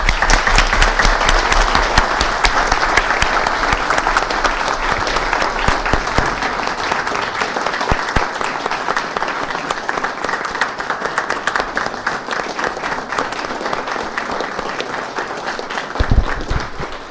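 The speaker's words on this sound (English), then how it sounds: "Let's give these kids a round of applause." An audience gives sustained applause for a group of students at a city council meeting, steady dense clapping throughout with a brief louder swell near the end.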